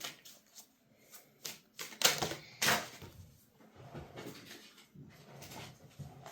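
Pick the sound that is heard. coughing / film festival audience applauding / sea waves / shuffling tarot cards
shuffling tarot cards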